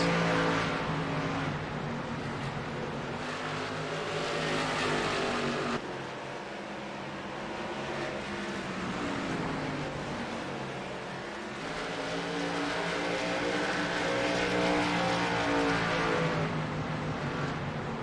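Race cars roar around the track during a televised auto race, a steady loud engine drone that swells and fades as cars pass, with no talk over it.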